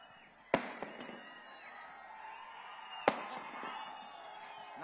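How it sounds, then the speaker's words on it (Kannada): Firecrackers go off at a film trailer launch event, two sharp loud bangs about two and a half seconds apart with a fainter crack between, over steady crowd murmur. "ಈ ಪಟಾಕಿ ಸೌಂಡ್ ಕಮ್ಮಿ ಆಗ್ಬೋದು ಸರ್"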